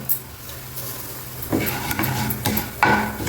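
Chana dal, urad dal, mustard seeds and cumin seeds go into oil in a kadai, first a low hiss, then louder crackling, with sharp clinks and pops near the end.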